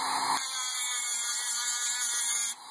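Power grinder biting into a gold piece to test for plating, a steady high-pitched whine that starts abruptly and runs for about two seconds before dropping away, close and fairly loud.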